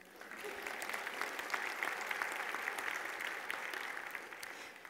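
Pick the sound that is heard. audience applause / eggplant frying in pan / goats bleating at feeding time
audience applause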